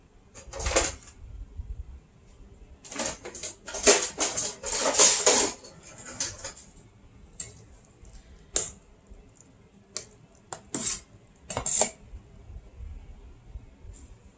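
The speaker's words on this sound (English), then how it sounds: "Let me get a different spoon and show you." Cutlery and dishes clink in a kitchen while a spoon is fetched: scattered sharp metallic clatters and taps in bursts, dense around the middle and sparser later, with quiet gaps between.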